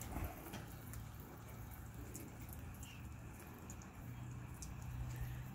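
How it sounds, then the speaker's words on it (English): Water from a water-fed pole runs in a steady sheet down exterior window glass, a soft continuous wash with faint splashes and a low background hum, fairly quiet throughout. "The water sheets down the glass."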